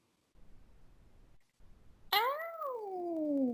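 A pet cat lets out a single loud, drawn-out meow with a falling pitch, close by, after a few seconds of quiet room noise.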